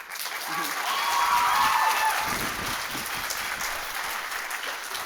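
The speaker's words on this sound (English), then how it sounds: "Clap if you believe." Theatre audience at a school stage production claps in a broad, sustained wash, with a performer's voice and some stage sound mixed in under the applause.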